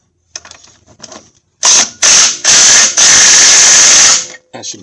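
A power tool tightens the primary clutch on a Polaris Ranger XP 900 in a series of four loud, close whirring bursts, preceded and followed by softer clicks and rattles of handling.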